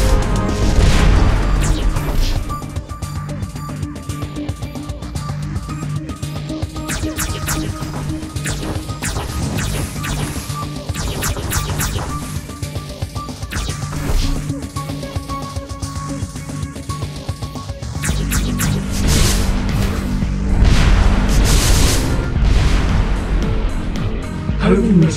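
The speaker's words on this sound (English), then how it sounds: "Homing missile." Homing missiles explode in the video game Descent Underground, a dense and continuous barrage of crashing, booming blasts over sustained game noise.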